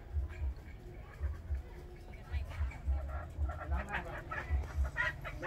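Backyard chickens cluck in repeated short bursts, close and fairly soft, while someone talks over them outdoors.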